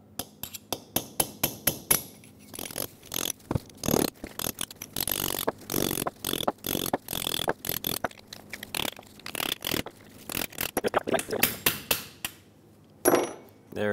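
A hammer strikes a chisel to pop an old rear axle seal off the hub of a 2003-2009 Dodge Ram 2500, with steady, irregular metallic taps close up and no talking.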